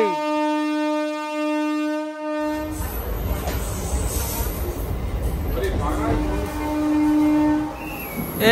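A Visakhapatnam–Parvatipuram MEMU express sounds a long, loud horn, then rumbles and rattles along the rails with steady clatter, a second horn blast rising near the end.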